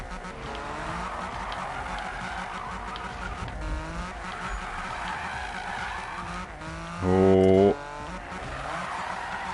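A race car drifts in Need for Speed with a continuous loud engine drone and sustained tire squeal, then a sharp tonal burst near the end. A man briefly exclaims over the game sound.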